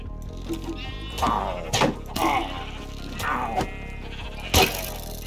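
Sheep bleating in a hardcore survival video game world, several loud, close wavering bleats spaced apart over a few seconds, with a knock or thud mixed in and no speech.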